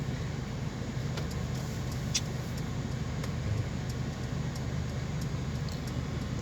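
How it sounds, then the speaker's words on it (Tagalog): Road traffic on a Saturday stoplight street in Makati City, Manila, heard as a steady low rumble of idling and moving cars with faint distant honks, continuous and moderately far throughout. "Sabadong ngayon, traffic pa rin, no?"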